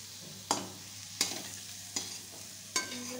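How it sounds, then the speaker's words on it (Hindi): Spices being stirred with potato and soya chunks in a frying pan for an aloo soya badi dish, four distinct scraping stir strokes at a steady pace over a soft, constant sizzle, close by. "चलाते चलाते इसे इस तरीके से कर लेंगे ताकि मसाले थोड़ा सा भी भून जाए"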